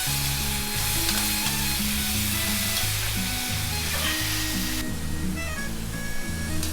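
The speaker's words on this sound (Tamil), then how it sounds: "எல்லாமே சேர்த்துட்டு நம்ம வதக்க வச்சிடலாம்" Ginger, garlic and tomato sauté together in a pan for a potato curry, a continuous close sizzle with light stirring, heard over steady background music and no speech.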